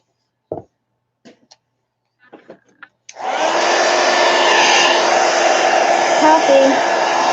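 A few soft taps and clicks come first, then a hair dryer switches on and blows steadily and loudly to dry a handmade watercolor journal cover, its even whoosh holding to the end.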